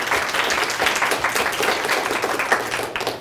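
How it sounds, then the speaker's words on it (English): Audience applause at a library program, a steady dense wash of many hands clapping at moderate loudness throughout, with no voices over it. "you should give the library a round of applause for having these kinds of programs and stuff"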